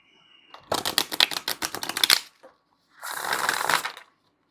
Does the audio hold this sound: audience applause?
no